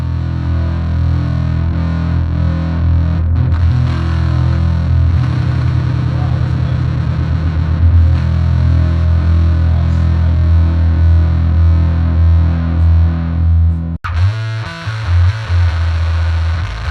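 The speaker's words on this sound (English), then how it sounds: "I decided to let the distortion on the bass amp go into completely ridiculous territory." Heavily distorted Base Chopper bass amp tone, loud and sustained, with thick buzzing low notes droning for many seconds before a sharp break and a few choppy, gritty stabs.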